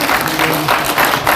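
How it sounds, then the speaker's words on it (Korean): An audience at an organization's general meeting applauds award recipients, with dense, steady clapping filling the hall. "오늘 감사패 공로패를 받은 모든 분들께 다시 한번 뜨거운 박수 부탁드립니다"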